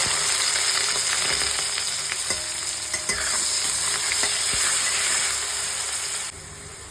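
Continuous crackling sizzle of onions frying in hot oil, with occasional stirring clicks and scrapes, close and steady before dropping quieter at the end.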